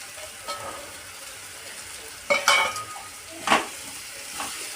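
Stuffed eggplants drop one by one into hot oil and roasted masala, giving a few short bursts of sizzle and pan clatter over a quiet, low frying background.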